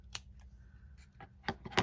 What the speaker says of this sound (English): cut a little V into the ribbon